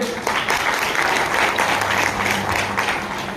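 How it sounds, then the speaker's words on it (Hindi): An audience at a business and leadership training event in Barasat bursts into loud, dense applause, a steady wash of clapping throughout. "मैं चाहूँगा इन दोनों लोग की एक जोरदार ताली होनी चाहिए।"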